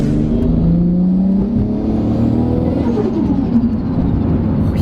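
A genuine Nissan GT-R R34 engine revs with a steady, loud low drone whose pitch climbs and falls, filling the whole moment close by without speech over it.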